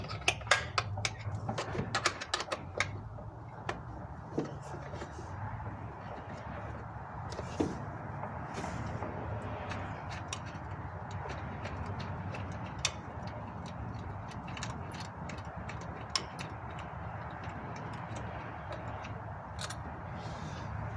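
An 8mm wrench working an intake bolt on a Dodge 4.7L engine, heard as a run of quick ratcheting ticks, busier at first and then softer and steadier, over low background noise.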